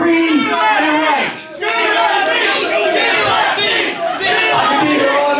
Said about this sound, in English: You guys can't cheer forever.